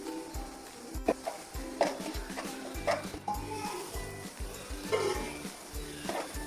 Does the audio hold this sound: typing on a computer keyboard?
no